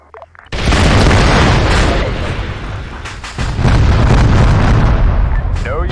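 An ammunition dump detonates in the military game ARMA III with a loud, close boom that swells into a long roaring rumble, surges again partway through and continues without a break.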